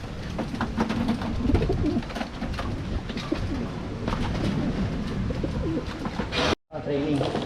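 Racing pigeons cooing at a loading station, with repeated soft coos and bird calls over a busy background of rustling and activity, briefly cut by a short gap near the end.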